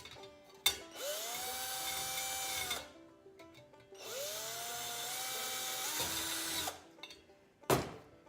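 A power drill bores holes in a 46RE transmission valve body during a shift kit install, with two whining bursts of about two seconds each, the pitch rising as the motor spins up, and brief clicks between them.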